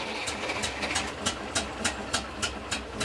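A restored military half-track engine runs at full throttle, a rough, uneven drone punctuated by regular sharp bursts roughly every quarter second, sounding strained and close.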